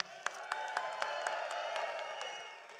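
A large crowd at an Alberta sovereignty rally cheers and applauds, steady clapping and whoops heard from a distance with a few sharper claps standing out.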